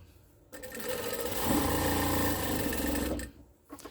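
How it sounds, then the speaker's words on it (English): A sewing machine stitches quilt fabric pieces together in one continuous, fast whirring run of about two and a half seconds, close and fairly quiet, starting and stopping abruptly, with no one talking. "And we're going to sew them together."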